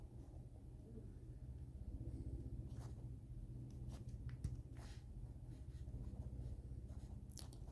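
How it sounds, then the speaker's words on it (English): Writing on a board during a math lesson comes through as faint, irregular scratching strokes over a low background rumble, with no voices. "Let me go ahead and write."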